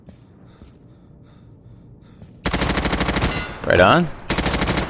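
Bursts of automatic gunfire in the tactical shooter video game Insurgency, loud rapid rattling in two long volleys with a short gap, a brief spoken remark between them.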